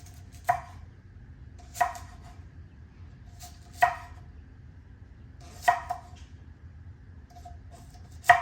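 Knife chopping ingredients for a sandwich on a board: five sharp, separate cuts spaced a second or two apart, close and fairly loud over a low background hum, with no one speaking.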